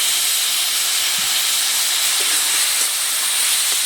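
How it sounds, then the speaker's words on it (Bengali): Water splashed into a hot pan of fish curry with potatoes and tomatoes sets off a loud, steady sizzling hiss that fills the whole stretch without pause, close by and alone. "অল্প একটু জল দিয়ে দিচ্ছি।"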